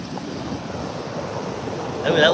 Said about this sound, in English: I know the waves are still coming in and out.